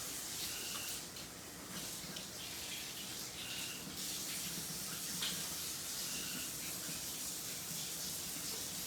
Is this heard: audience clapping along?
no